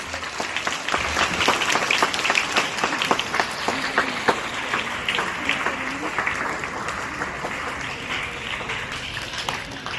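A school audience applauds the house captains at an investiture ceremony, a long, steady round of many hands clapping, loud and sustained throughout, with a faint voice briefly audible underneath.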